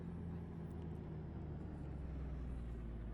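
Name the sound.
Kenworth T2000 truck engine in American Truck Simulator video game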